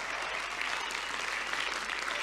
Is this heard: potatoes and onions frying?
no